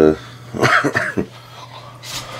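A short run of several rough coughs close to the listener, clustered together, followed by quiet breathy background noise.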